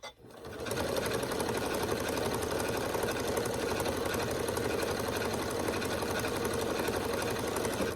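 A sewing machine free-motion quilting fabric with white thread for a quilt-as-you-go table runner, running at a steady fast stitch for the whole stretch after a brief start, close and loud with no talk over it.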